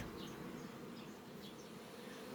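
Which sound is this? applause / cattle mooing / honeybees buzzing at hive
honeybees buzzing at hive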